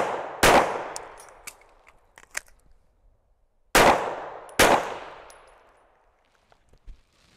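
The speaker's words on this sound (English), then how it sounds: "doing these actions of drawing, firing, reloading, and firing it again" Pistol shots ring out during a draw, fire two, reload, fire two drill at a shooting range: a sharp pair of loud reports, a pause for the reload, then another pair, each with a decaying echo and faint metallic clinks between.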